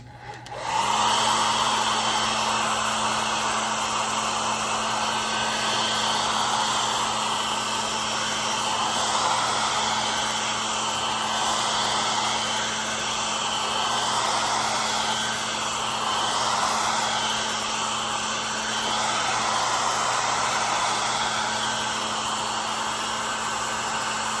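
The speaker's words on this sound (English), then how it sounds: "I'm gonna do a coat and blow dry it." A hair dryer blows steadily and loudly close by for the whole stretch, drying a coat of paint, a constant airy roar with a low motor hum and no talking.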